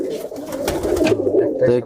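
Captive pigeons kept for flying contests coo in a steady low throbbing murmur close by, with a voice talking over part of it.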